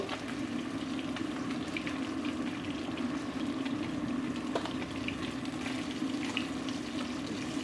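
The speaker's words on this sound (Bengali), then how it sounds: "এখানে দেখো মাছগুলো মোটামুটি আমার ভাজা হয়ে গিয়েছে" Fish frying in oil in a pan for a fish curry, a dense continuous hiss and crackle of sizzling oil, close and steady throughout, with a few faint clinks and no speech.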